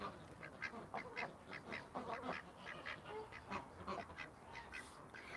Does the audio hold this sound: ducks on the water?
yes